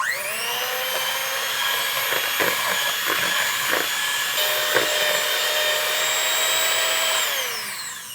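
An electric mixer whirs steadily through melted butter and vanilla for keto chocolate chip cookie bars, a loud continuous motor whine with a few clattering knocks, spinning down at the end of about eight seconds.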